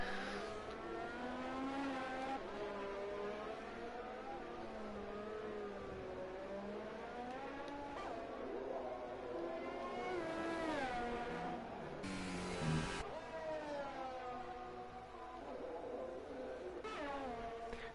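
Formula 1 cars run laps in a racing video game during Mexican Grand Prix qualifying, including a Toro Rosso Red Bull on its outlap. A steady engine drone rises and falls in pitch throughout, with a voice talking over it.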